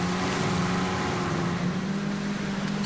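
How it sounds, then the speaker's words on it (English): A jet ski engine runs on water with a continuous droning motor hum and a wash of wind and water hiss, steady from start to finish with no voices. "The jet ski is a motorcycle that floats on water."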